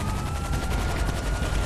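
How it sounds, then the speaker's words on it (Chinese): Police gunfire in GTA Online rattles as a dense, continuous volley of shots, loud and unbroken, with a helicopter-like roar underneath. "一堆警察往天空中开枪，"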